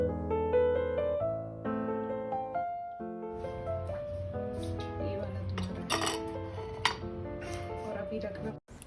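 White sauce pasta is served from a pan onto two plates in a home kitchen, with metal spoons and dishes clinking and scraping repeatedly at close range over soft background music.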